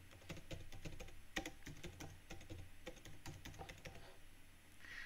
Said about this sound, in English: type your topic in the search box